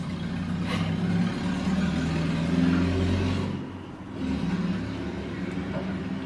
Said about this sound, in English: A noisy car?